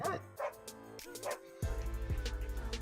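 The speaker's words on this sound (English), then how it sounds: "Dog's tripping out over here." An excited dog close by gives several sharp barks and high yips with a whimpering edge, then a steady run of barking under a low hum.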